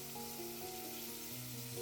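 Onion and curry leaves sizzle steadily in a frying pan while a chicken curry is cooked, a loud, continuous close-up crackle and hiss with no pauses.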